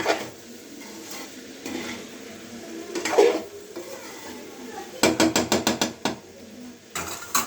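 A spoon stirs cauliflower with coriander in a cooking pan, making soft shuffling scrapes with a faint sizzle, then a quick run of sharp metallic clinks and scrapes against the pan near the end.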